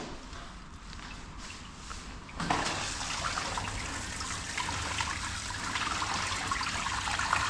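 Water sprays steadily while fleas are rinsed off a matted cockapoo during grooming in a salon, the hiss starting abruptly after a quiet moment and running on continuously, close and even, with no talking.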